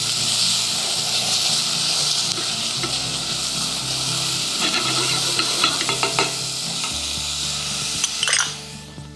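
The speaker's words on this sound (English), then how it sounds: "We just continue to stir like this, maybe around 2 or 3 minutes." Onions sizzle and hiss continuously as they fry golden in a pan, with a utensil stirring through them and scraping steadily, plus a few louder clatters near the end.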